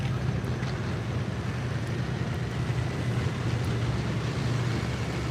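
A big-block pulling tractor at a 12,000-pound class tractor pull in Virginia, its engine a steady, loud low-pitched roar that holds unbroken throughout, with some wind rumble mixed in.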